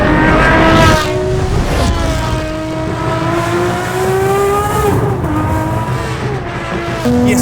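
A Talos XXT, a road-going reimagining of the Ferrari 599XX, revs its engine hard in a loud, continuous howl with rising and falling pitch sweeps as it accelerates through gears, close and alone.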